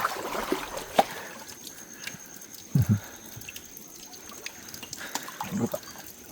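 Water trickling and dripping from a small natural stream in Goa, faint and close, with a few brief splashes as water is caught in hand.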